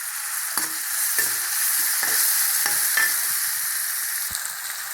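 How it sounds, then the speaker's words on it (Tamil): Tomatoes sauté in a pan with a little salt and curry leaves for a radish kuzhambu, a bright, constant sizzle broken by roughly five regular scraping stirs of a spoon, close up and without speech. "இப்போ நல்லா வதங்கிட்டுங்க தக்காளி"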